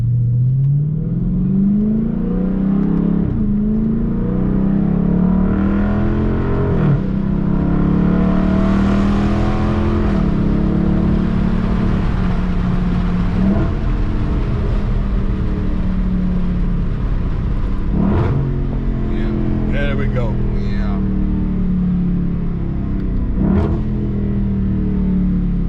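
A Dodge Charger or Challenger fitted with an AWE track exhaust revs repeatedly while driving, with a loud, continuous engine drone rising and falling in pitch over the whole stretch, heard from inside the car with no talking.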